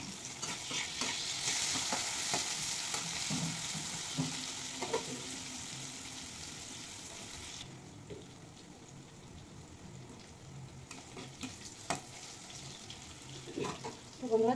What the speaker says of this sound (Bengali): তো পেঁয়াজটা হালকা করে ভেজে নেব। এবার দিয়ে দেবো টমেটো কুচি।